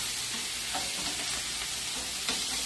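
Scallops and shrimp sizzle in a pan for pasta, a steady, close frying hiss with soft crackles and a brief louder pop near the end, with no talking.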